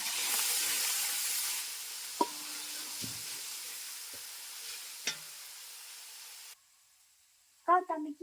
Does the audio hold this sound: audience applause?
no